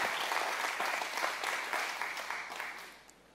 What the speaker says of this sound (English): I want to applaud y'all for who you are in Christ Jesus